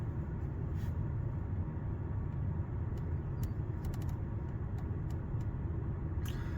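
A Honda Pilot Sport's engine idles with the car stationary, giving a steady, quiet low rumble inside the cabin, with a few faint clicks over the top.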